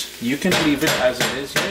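A metal utensil scrapes and knocks against a pan while frying potato and saltfish buljol stick to the bottom, giving repeated clattering scrapes with a person talking over them.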